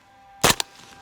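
A single sharp shot from a PTR PDWR, a roller-delayed blowback rifle firing small .30-calibre bullets, followed by a quick second crack or echo, and then quiet.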